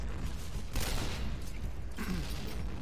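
Gunfire bursts in the shooter game Point Blank, two short loud volleys standing out over a steady game background.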